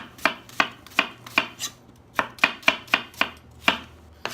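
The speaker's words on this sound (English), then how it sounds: "I'm just going to be cutting the onions like this, so they look like that" A knife julienne-cuts onions on a board: about a dozen crisp chopping strokes in an uneven rhythm, close and clear, with no talk.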